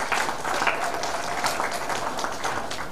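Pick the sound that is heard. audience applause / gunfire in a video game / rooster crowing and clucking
audience applause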